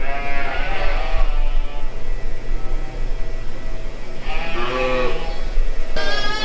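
A young lamb bleats repeatedly during lambing season on a farm, its loud, wavering calls coming in bursts over a steady background hum.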